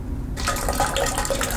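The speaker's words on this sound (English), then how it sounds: "I again have the water flowing," A thin stream of water runs from a tap after a brief quiet start, a steady splashing flow close by for the rest of the moment with no talk.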